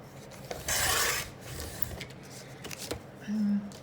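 Scissors or a trimmer cutting down card stock from a backing edge to make journal cards, a few short rasping cuts and paper rustles, close and fairly quiet, with soft handling noises between them.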